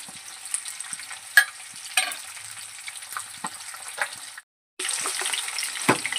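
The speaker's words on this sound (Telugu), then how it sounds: "ఆయిల్ వేడెక్కిన తర్వాత పచ్చిమిర్చి వేసుకోవాలి." Green chilies fry in hot oil in a kadai, crackling and sizzling up close with sharp pops and stirring, a brief cut to silence, then the fizzing resumes.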